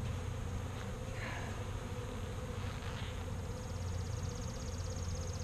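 A dense, continuous drone of many honey bees humming together inside a hive, steady and close, with no voices.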